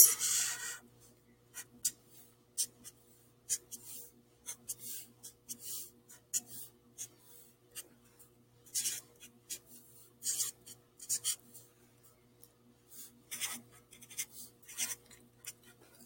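Pen or pencil drawing graph quadrants by hand on paper, soft intermittent scratchy strokes close by, bursts of short lines separated by pauses, faint against a low steady hum.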